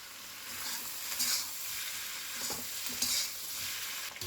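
Spring onion and chicken stir-fry in a hot pan for chicken chow mein, giving a quiet steady sizzle with occasional scraping stirs of the spatula.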